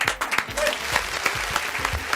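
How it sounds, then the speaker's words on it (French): An audience at a Fête de la musique show with Chadian artists claps for a performer, a short burst of loud, uneven clapping with distinct hand slaps close by and some voices in the mix. "Est-ce qu'on peut l'applaudir très très fort s'il vous plaît la famille?"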